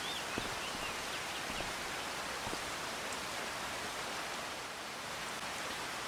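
Steady rain falls in the Farming Simulator 25 game, a dense, even hiss with faint patters, unbroken for several seconds at a moderate level and without any voices.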